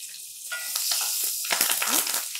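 Dry red chilies, curry leaves and green chilies fry in hot oil with a bright, crackling sizzle and some stirring, close and lively, with a few sharp pops and no talk.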